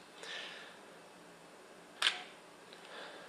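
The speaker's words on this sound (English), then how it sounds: "Chronos is now controlling the shutter completely. It controls when it opens and when it closes." A camera shutter under remote bulb control clicks open with a faint snap, then a sharper, louder click about two seconds later as it closes, in a quiet room with no talking.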